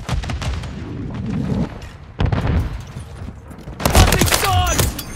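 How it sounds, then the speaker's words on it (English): Incoming gunfire in Call of Duty Modern Warfare III comes in loud bursts of shots and blasts, separated by short lulls, with a harsh close volley near the end and voices shouting amid the fire. "Taking effective fire! Incoming fire!"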